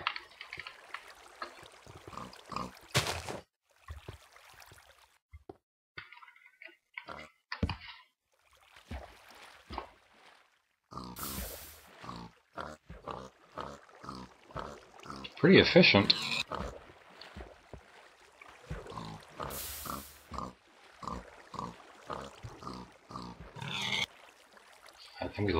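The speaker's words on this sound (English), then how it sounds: "Smart pig." A pig in Survivor Island grunts and oinks intermittently, mostly beneath near-constant talking and occasional splashing, with a louder burst partway through.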